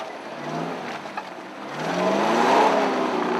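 A 4x4 trials vehicle climbs a slope at a New Zealand trials round in Wanganui. Its engine starts as a low drone, then swells into a loud, sustained rising rev for the last half of the climb.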